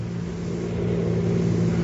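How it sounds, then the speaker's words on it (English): A car engine hums and slowly grows louder as it approaches in a horror radio drama scene, a steady low drone with no voices over it. "Sounds like a car heading this way."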